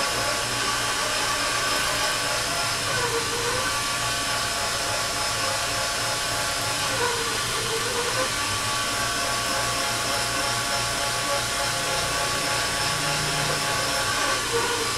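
Steady machining noise as an angular cutter bores a starting hole for a hair dryer bracket, a continuous broadband whir and hiss that holds evenly throughout with faint periodic tonal sweeps and no talk.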